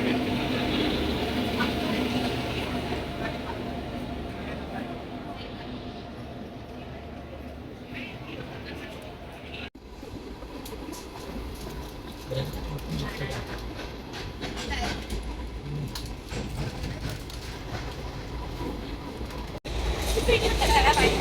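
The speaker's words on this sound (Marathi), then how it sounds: "तर ट्रेन आलेली आहे आमची" A train rolls into Mangaluru Junction station with a continuous low rumble and rattle of carriages, close and moderately loud, as people talk over the noise.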